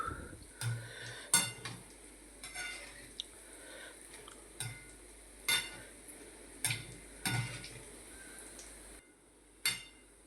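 A utensil stirs puffed rice bhajiya frying in hot oil in a pan over a low flame, giving a series of sharp, separate clinks and scrapes against the metal, loud and close, over a faint background.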